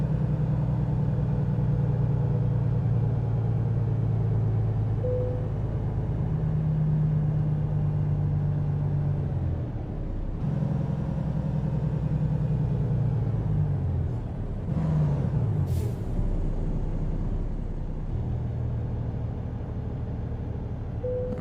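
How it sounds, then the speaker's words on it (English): A Volvo VNX truck in American Truck Simulator slows under its retarder, giving a deep, steady engine drone with low rumbling tones that drop and shift in pitch as the truck decelerates, heard alone without talk. "It's slowing down a little bit with our retarder"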